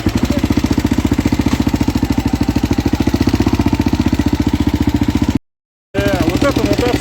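A Husqvarna SM610 motorcycle engine idles close by with a fast, steady thumping pulse and a reported engine knock, broken by a brief cut of silence before the idle resumes.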